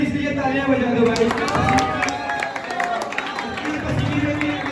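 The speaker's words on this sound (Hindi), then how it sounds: "एक बार हमारे रेफरीज के लिए तालियां बजा दो भाई।" An audience at an arm wrestling championship claps and murmurs in a hall, a moderate patter of applause running under someone talking over it.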